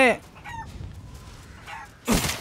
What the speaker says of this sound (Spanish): El gallo loco.